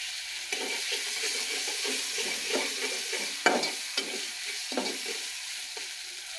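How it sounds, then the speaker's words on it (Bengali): Garlic and cumin paste frying in oil, a soft sizzle broken by repeated spatula stirring and scraping, fairly close and alone without voices. "রসুন বাটা একটু জিরা বাটা দিয়ে ভালো করে মিক্স করে ভেজে নেব যাতে কাঁচা গন্ধটা চলে যায়"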